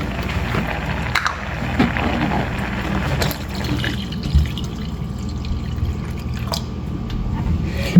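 Water is poured into a pot of simmering mint rasam, a steady splashing trickle over the stove for several seconds with faint clatter.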